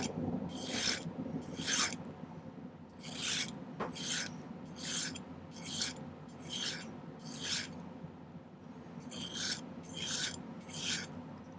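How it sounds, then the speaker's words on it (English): Hand file rasping on silver wire while shaping pieces for pearl and black onyx earrings, with about ten separate strokes at a steady rhythm. The strokes are close and clear, with a faint background hum and no talking. "Okay, so I'm going to do a little bit more filing again."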